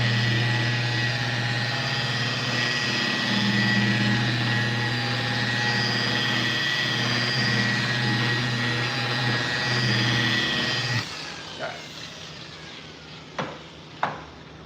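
A buffer polishing wet-sanded lacquer runs with a loud, steady whirring drone for about eleven seconds, then winds down and stops, leaving a few sharp knocks in the quieter tail.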